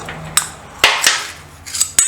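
A hammer taps a centre punch to mark drill holes on BSA B50T motorcycle parts in a workshop, giving several sharp metallic clinks in an uneven rhythm, close and fairly loud.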